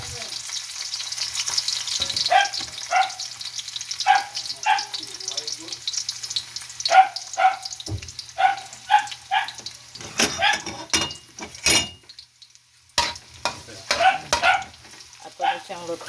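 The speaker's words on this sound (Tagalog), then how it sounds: "Ato na siyang lutoon hantod nga mag-brown ang garlic." Garlic frying in hot oil for black pepper pork with mushroom, loud crackling sizzle with frequent spatula scrapes and stirring clatter, nearby and without talk.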